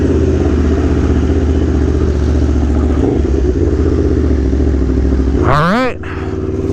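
An Aprilia Tuono V4 1100 Factory motorcycle roars steadily on a racetrack, its engine droning loud and close for several seconds before a quick rising whine near the end.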